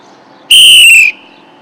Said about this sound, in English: A stop is a one long whistle.